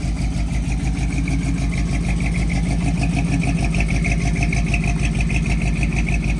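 An old square body truck pulled from a barn, its engine idling with a steady, loud, low rhythmic chug throughout, close up with no talking.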